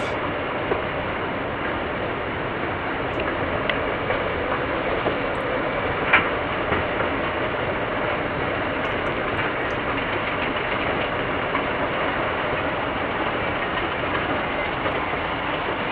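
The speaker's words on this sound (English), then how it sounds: "So we're gonna ride up the escalator." An escalator carrying riders upward inside a Sears department store in Greensboro gives off a steady mechanical drone and rumble that stays even for the whole ride, with no talking.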